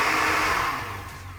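A blender on its soup setting whirs loudly as it purees walnuts and water into a sweet walnut soup, a steady motor hum that fades and slows toward the end.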